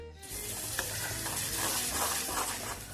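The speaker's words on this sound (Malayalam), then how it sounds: "ഓയിൽ ചൂടായതിന് ശേഷം ഇഞ്ചി വെളുത്തുള്ളി പേസ്റ്റാണ് ചേർത്ത് കൊടുക്കുന്നത്" Crushed ginger-garlic paste frying in hot coconut oil in a clay pot, a soft, steady sizzle with stirring scrapes, close and uninterrupted by voices.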